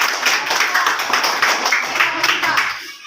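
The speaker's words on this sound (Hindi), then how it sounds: "वेरी गुड, ताली बजाओ।" Children in a school classroom clapping together in a steady burst of applause, loud and close, ending abruptly.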